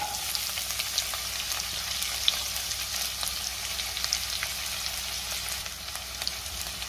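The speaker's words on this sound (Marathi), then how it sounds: "कांदा मी 2 मिनिटं परतून घेणार आहे" Onion, green chillies and whole spices frying in hot ghee and oil, a continuous close crackling sizzle with faint intermittent stirring, no voices.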